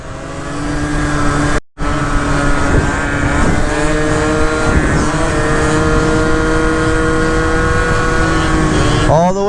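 A Yamaha Zuma 70cc BWS scooter engine buzzes loudly and close while the rider pulls wheelies. The revving holds steady, cuts out briefly near the start, and climbs again at the end.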